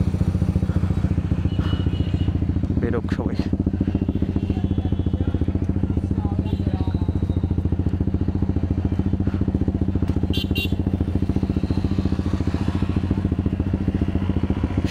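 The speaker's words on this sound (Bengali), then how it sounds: "আমাদের বাইকগুলো বের হচ্ছে দিকে, একটু ফুল স্টার্টে রাখি গাড়িটা" Higher-cc CF Moto motorcycles at a showroom opening in Narayanganj rumble steadily and close by for the whole stretch, a continuous engine drone with a few clatters, while people talk over it.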